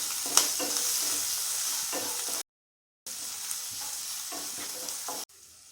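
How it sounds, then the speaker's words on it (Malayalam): Ginger paste and chopped green chillies frying in hot oil in a pan for egg pepper masala, giving a steady close sizzle with stirring scrapes, broken by a brief silent gap before the frying resumes. "അതിലേക്ക് നമ്മൾ പേസ്റ്റാക്കി വെച്ച ഇഞ്ചി, ചെറുതായിട്ട് അരിഞ്ഞ് വെച്ച പച്ചമുളകും കൂടെ നമുക്കൊന്നിട്ട് കൊടുക്കും"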